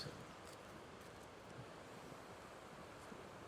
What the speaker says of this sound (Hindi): पानी के बहने की बस आवाज़ आ रही है यहाँ पे